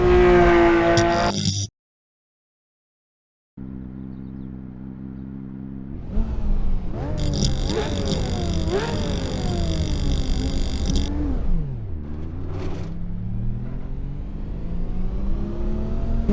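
A Porsche 993 RWB engine in a sim racing game revs loud and close, its harmonic pitch climbing and falling through gear changes, broken by about two seconds of silence before rising again.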